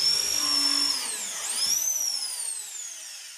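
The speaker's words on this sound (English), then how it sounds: "What are our reasons, Han, for putting more screws in?" A power drill drives screws into a wooden frame for a succulent wall garden, its motor whining steadily and rising and falling in pitch through two bursts, close and fairly loud with no talk.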